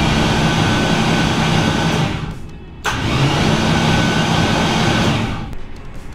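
A turbocharged Chevrolet Nova engine cranks over on its starter in a loud, steady, close drone, breaking off briefly and then resuming.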